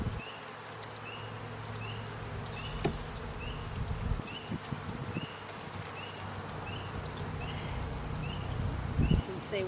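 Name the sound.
honeybees buzzing around an opened hive during inspection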